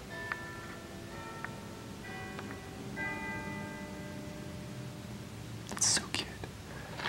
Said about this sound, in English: you can hear a bell.